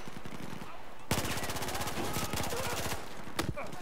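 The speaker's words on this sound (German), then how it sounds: "Das Ding schießt aber auch schnell." Rapid bursts of Battlefield 4 gunfire from a fast-firing gun with a 25-round magazine, a fast rattling stream of shots that stops, then a single sharp shot near the end.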